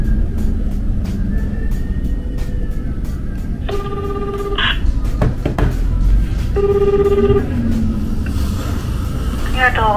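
Phone ring-back tone from a call placed to a trucking company, two short tonal rings a few seconds apart heard over steady background hum and noise.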